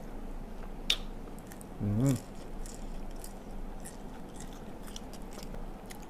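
Spicy papaya salad with chicken feet being chewed, with one soft, brief crunchy bite midway over a low, steady background hiss and a few faint clicks.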